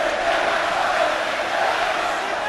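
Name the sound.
football crowd roaring at FA Cup match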